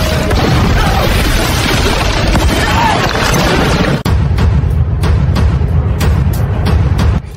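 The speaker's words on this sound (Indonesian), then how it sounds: "Ed pun kabur dikejar ledakan dan lab beserta tower yang berada di atasnya pun hancur" A massive explosion destroys a lab and the tower above it in a war film: a loud, dense, roaring blast and rumble that breaks off abruptly, then continues as a lower rumble with scattered sharp cracks.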